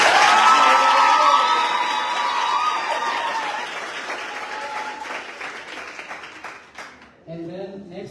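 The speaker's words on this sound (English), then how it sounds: "Can you please give him a round of applause?" At a campus conversation seminar, a student audience bursts into loud applause and cheering with a few whoops for a guest. The clapping fades over several seconds, then a voice speaks briefly at the close.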